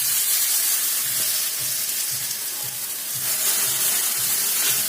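Steady, bright sizzle of chila batter on a hot tawa greased with thick mustard oil, a continuous close hiss of frying with faint soft scraping underneath.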